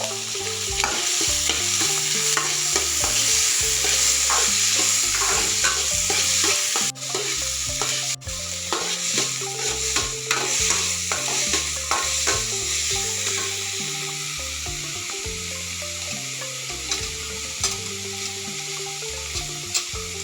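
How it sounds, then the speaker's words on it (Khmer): Soy sauce hits a hot pan of fried garlic, raising a loud, continuous sizzle with stirring scrapes that runs steadily for about twenty seconds and eases slightly near the end, with no talking. "បន្តមកទៀតយើងចាក់សៀងចូល"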